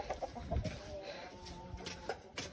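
Chickens on a farm cluck softly in short, scattered calls against quiet outdoor background noise.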